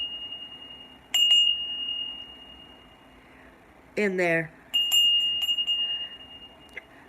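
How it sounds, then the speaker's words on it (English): A cast iron school bell with a steel ball clapper rings in a few sharp strikes near 1 s and again around 5 s, with bright sustained ringing tails, and a person speaks briefly between the rings. "It looks like a teacher's bell, a school bell."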